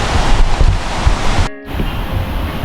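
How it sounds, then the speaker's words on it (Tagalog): Water rushes at the top of Hulugan Falls in a loud, continuous roar mixed with gusty wind noise on the microphone, cut by a brief dropout partway through. "Ito daw ang ibabaw ng Hulugan Falls."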